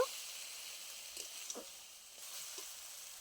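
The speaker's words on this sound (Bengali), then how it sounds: "মশলা দিয়ে খুব ভালো করে আরও একবার কষিয়ে নেব" Spice paste of ground chilli, cumin and turmeric fries quietly in a pan, a soft steady sizzle with a few faint scrapes of stirring and no talk.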